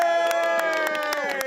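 Crowd at a Canada Post strike solidarity rally in Edmonton, several local unions gathered outdoors, cheering and shouting in a steady wash with scattered sharp whoops and claps throughout, a busy layered roar with no single voice standing out.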